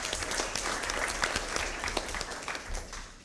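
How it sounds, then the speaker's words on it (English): Audience at a college Constitution Day candidate forum applauds a candidate, a dense, steady round of clapping heard from within the room for a few seconds. "please join me in giving him a round of applause"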